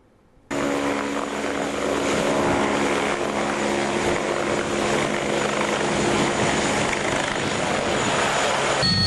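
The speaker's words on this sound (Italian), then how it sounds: "Siamo a bordo dell'ultimo elicottero arrivato in dotazione alla Guardia di Finanza del Veneto" Inside a Guardia di Finanza helicopter in flight over the Veneto region, a loud, steady rotor and turbine roar starts abruptly and then holds constant throughout, with no talk.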